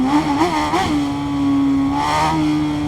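A BMW S1000RR superbike with an Akrapovic exhaust in Ride 5, revving close up in a few quick throttle blips before settling into a steady high-pitched wail that dips and rises again.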